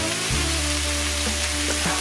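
Corned beef hash frying in a pan, a steady low sizzle holding throughout with a few faint clicks and stirs, close and even, no voices.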